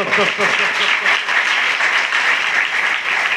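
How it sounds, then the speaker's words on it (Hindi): A crowd breaks into loud, steady applause, dense clapping filling the space for a few seconds without pause. "ताली मारो हां सतरे"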